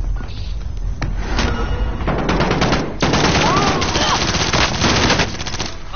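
Dense automatic gunfire from Call of Duty Warzone Rebirth, loud and close, with rapid bursts and overlapping shots running almost continuously, plus a few heavier thumps, and players talking faintly underneath.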